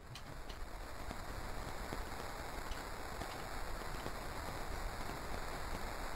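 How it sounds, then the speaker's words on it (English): Steady, even rainfall from the video game Minecraft hisses continuously at a soft, constant level, with no speech over it. "Oh, how nice of it to rain on the last day."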